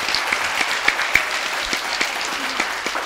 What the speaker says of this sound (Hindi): इनके लिए तालियां बजनी थी, अपने आप बज गई।